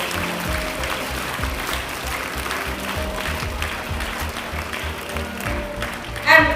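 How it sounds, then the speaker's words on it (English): A school audience claps for the games and sports captains, a dense, sustained wash of applause at moderate volume. "I would like to have a very big hand clap for all these 46 years of captains for games and sports."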